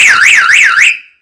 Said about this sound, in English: for a short amount of time, we just activated a 14 watt alarm